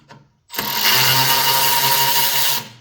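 A power tool spins up to remove long quarter-inch screws from a Yard Machine snowblower, a steady, loud whirring whine running for about two seconds before cutting off, alone without talk.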